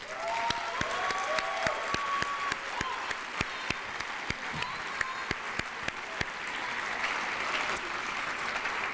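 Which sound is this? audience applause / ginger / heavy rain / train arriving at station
audience applause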